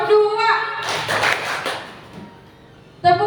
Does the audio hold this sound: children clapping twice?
yes